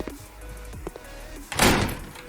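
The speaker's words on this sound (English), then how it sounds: "door is being shut" Door slamming shut as a sound effect in a Unity horror game, one heavy sharp bang near the end following a few soft creaks and thuds, fairly loud and close.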